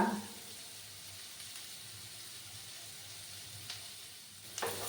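Bottle gourd peel frying in a pan gives a steady, close sizzle with faint stirring scrapes and a louder clatter near the end, and no voices.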